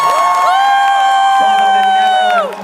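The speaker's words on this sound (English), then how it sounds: "I've told them they have to keep applauding you till we get to the sofa" A Comic Con audience in Brussels applauds and cheers for Nichelle Nichols, a loud, sustained roar with long shrill whoops held over it throughout, fading slightly at the very end.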